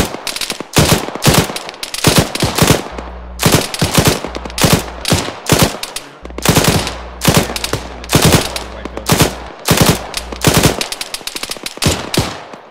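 Gunfire in the military shooter Arma 3 during a beach landing, rapid bursts of automatic rifle and machine-gun shots, loud and close, in irregular volleys with short gaps.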